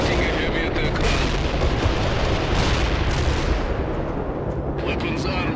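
Heavy artillery-style explosions and dense gunfire from an attack round in the World in Conflict video game, a continuous loud rumbling barrage lasting throughout, with faint voices mixed in.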